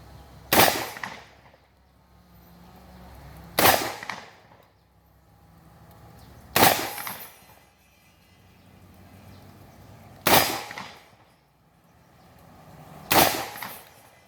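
Shotgun test firing of a Commando 8.6, Saiga 278 and UTAS XTR-12: five loud, sharp blasts spaced about three seconds apart, each with a short decaying tail, nearby and with no talk.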